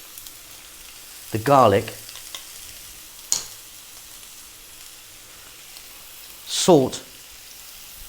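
Onion frying in hot oil already used for eggplants, on heat above medium: a steady bright sizzle runs throughout, while a voice speaks briefly twice over it and a sharp click lands in between.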